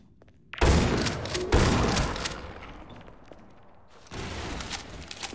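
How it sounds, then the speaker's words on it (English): A sniper rifle fires in Garry's Mod with loud, booming shots: two close together near the start and a third later, each trailing off into a long rumbling decay. "That's a sniper rifle."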